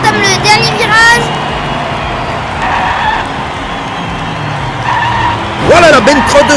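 Diecast toy racing cars speed along a miniature track into a final bend, a steady rolling whir with squeal-like bursts at the start and end, under continuous excited race commentary.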